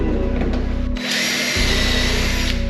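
A power drill bores screw holes in wood on a carpentry job in Jeju, a loud steady whine with a short dip in the motor before it winds back up and runs on continuously.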